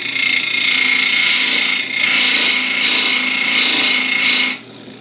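A bench grinding wheel sharpens a chainsaw chain set at 25 degrees, giving a loud, steady high-pitched grind that holds for over four seconds with a brief dip, then cuts off near the end.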